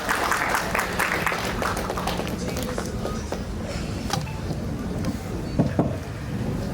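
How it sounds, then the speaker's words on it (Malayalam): Audience applause at a launch event for a Malayalam AI movie teaser, a steady dense clatter of clapping that holds across the whole stretch, with a couple of slightly louder bursts near the end. "കൈയടിക്ക് കൊടുത്ത് ഇൻവൈറ്റ് ചെയ്യാൻ എല്ലാവരും."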